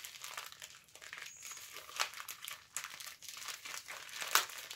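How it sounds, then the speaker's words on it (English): A small mail package from an online shopping haul is pulled and torn open by hand without scissors, giving bursts of crinkling plastic and paper with a few sharp rips, close and moderately loud, with no talking. "I do not know where my scissors are, but I think we could try and get them open."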